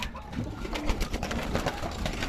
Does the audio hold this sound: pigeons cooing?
yes